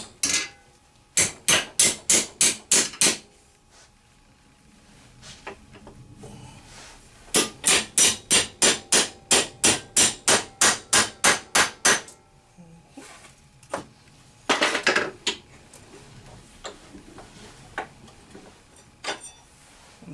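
A metal strip clamped in a vise is hammered over to bend it, with two loud runs of quick, evenly spaced blows, a pause between them, and a few scattered lighter taps near the end.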